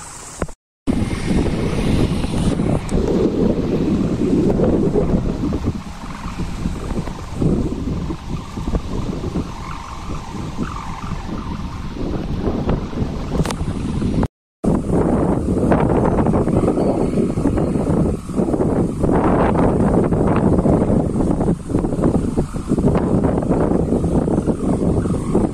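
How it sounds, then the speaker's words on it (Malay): Strong, steady wind roars across an outdoor kite-flying spot for Layang Danguang fighting kites, a continuous loud rush of gusty air buffeting the microphone, broken only by a brief dropout. "Jarang-jarang angin kayak gini kok"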